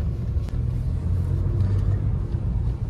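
A Maruti WagonR running on CNG after a cylinder head repair drives along with the AC on, its engine a steady low hum heard from inside the cabin with faint road rumble and no talking.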